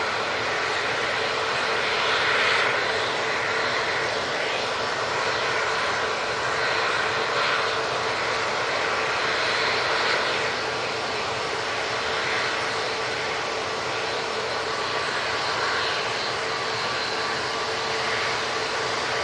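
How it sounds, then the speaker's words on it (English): A KLM Embraer E175 jet airliner passes overhead near Manchester Airport, a steady broad engine roar lasting the whole stretch and rising gently early on, with no voices. "just passing Stockport now, we have the KLM Embraer E175"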